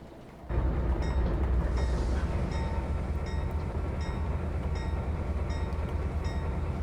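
A diesel SD40 locomotive engine in the game Trainz 2022 rumbles steadily and loudly after a sudden start, with a faint rhythmic clicking above the low drone.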